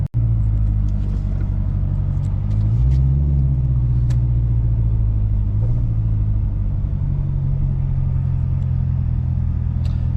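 A 2019 Chevrolet Corvette ZR1 ZTK out on a drive, its engine giving a loud, steady low rumble with a slight rise in revs partway through, heard close from inside the car with no talking.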